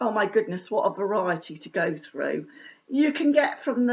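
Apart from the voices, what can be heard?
No everyday noises stand out.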